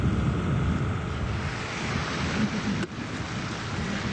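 A 1,200-pound submersible agitator pump drives heavy slurry out of a pond, a loud, steady broadband rush and churning roar that continues without break, with no one speaking.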